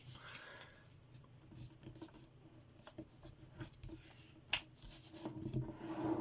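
Paper folded and creased for an origami ghost: close rustling, rubbing and sharp crinkles in irregular bursts, with a brief louder crackle partway through.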